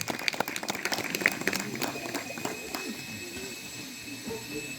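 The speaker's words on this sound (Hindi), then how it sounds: "जोरदार तालियां डॉक्टर शालू को" Applause from teachers and students at a career guidance session in a school hall, brisk clapping that is strongest at the start and thins to a low murmur of voices.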